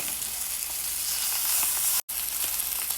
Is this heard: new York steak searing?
yes